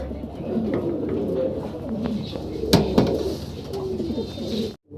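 Danish pigeons in a coop murmur with soft, repeated cooing, close by, with a couple of sharp knocks partway through and a brief cut near the end.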